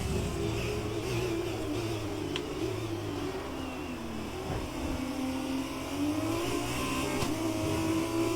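Engine of an F2 race car in the racing game F1 2020, a steady mid-pitched drone with gentle rises and falls in pitch as it shifts and revs, continuous and unbroken with no voices.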